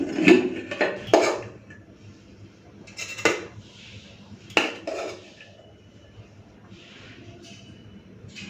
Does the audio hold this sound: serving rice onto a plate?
yes